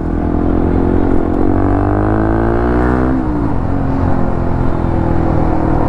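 A modified Bajaj Pulsar NS125 motorcycle with an Akrapovic exhaust idles and revs nearby, a loud steady exhaust burble rising in pitch and then dropping back, without speech.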